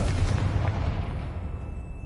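A Confringo spell explosion in Hogwarts Legacy: a dense, rumbling fiery burst that fades away over two seconds with no voices.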